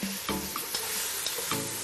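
Meat browns in a hot pan, giving a steady close sizzle with a few soft stirring scrapes and no voices.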